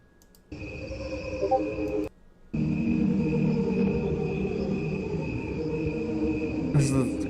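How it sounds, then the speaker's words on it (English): Sped-up crickets give a dense, steady chirping that fills the whole stretch, pausing briefly near the start before resuming loud and continuous. "this is allegedly crickets sped up"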